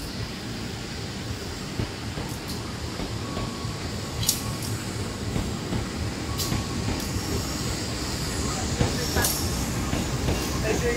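The Bogowonto passenger train departs a busy station at night, a moderate rolling rumble of rail cars with scattered clanks and faint squeaks, steady and somewhat distant.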